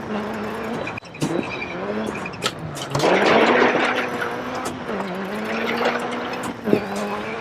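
A Subaru Impreza WRC2001 rally car in DiRT 4 swings through a handbrake turn, its engine droning and revving while tyres skid and scrub loudly on the surface, with a voice talking over it.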